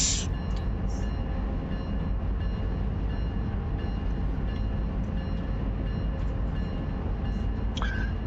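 Heavy 7,200-ton freight train rolling toward a yard with no mid-train DPU, giving a steady, loud broadband rumble of cars and wheels with a few brief higher squeals on top, no voices.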